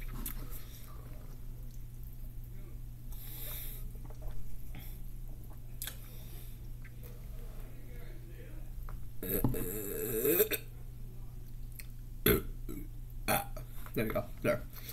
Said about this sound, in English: Finally got burp out